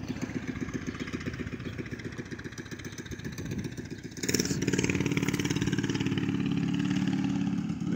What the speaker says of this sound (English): Got the neighbor on his mini bike.